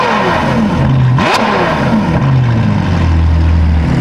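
A Ferrari engine revs up to around 4,000 RPM at a small-town gas station, a loud, close roar that climbs in pitch, drops back, then rises again to a sustained high drone.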